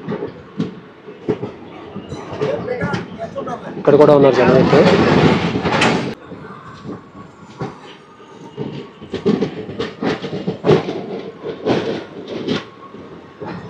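A passenger train runs on the rails near Kamalapuram, rumbling with rhythmic clatter and a louder rushing stretch partway through, while someone talks over it.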